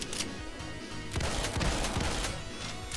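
Rapid assault rifle fire in Doom II, a dense continuous fusillade of game gunshots with loud bursts layered over each other and no pauses.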